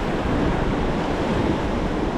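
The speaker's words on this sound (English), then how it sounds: "There is some rapids" Whitewater rapids on a river in Denali, heard from a raft: a steady, loud, broadband roar of rushing water with wind buffeting the microphone, continuous throughout with no talking.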